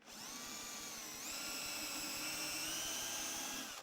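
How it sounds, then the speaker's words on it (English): A high-pitched power drill with a brad point bit whirs steadily for a few seconds, its pitch rising slightly as it bites in, close and fairly loud. "A brad point drill bit's got a sharp point on the end."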